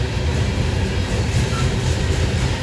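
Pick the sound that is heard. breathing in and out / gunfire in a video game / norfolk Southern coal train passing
norfolk Southern coal train passing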